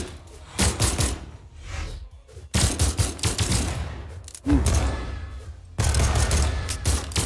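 Gunfire from weapons in the Brawlhalla fighting game during a 1v1 match: loud, dense rattling volleys in long sustained bursts, broken by a few brief pauses.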